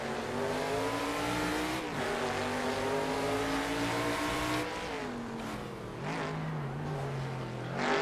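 A Camaro Trans Am race car screams through its gears at Winton in the Assetto Corsa game, its loud harmonic engine note rising and dropping with shifts and braking, continuous and close.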